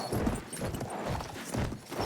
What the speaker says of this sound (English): That's an enemy horse.